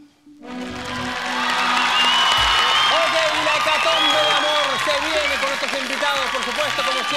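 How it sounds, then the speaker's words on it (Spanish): A TV studio audience on a Chilean dating show applauds steadily for several seconds after a quiet start, the clapping blended with cheering and other sound. "Carolina Bastía, un aplauso para ella."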